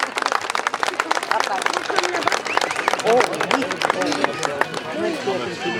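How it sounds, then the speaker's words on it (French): An outdoor crowd at a model aircraft meeting applauds the pilot of a 1/9 scale Rafale after its landing, a dense sustained patter of many hands with chatter and shouts mixed through it. "Je vous demande un deuxième applaudissement pour Jean Gaspard et son Rafale"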